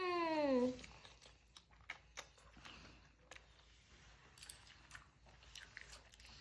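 Quiet crunching bites and chewing of homemade pizza follow a brief vocal sound, with small crisp clicks scattered over several seconds at close range.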